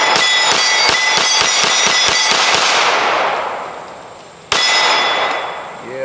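A Springfield Armory Echelon pistol fires at a range target, a rapid string of about a dozen sharp, loud shots with ringing echoes, then a pause and one more close crack.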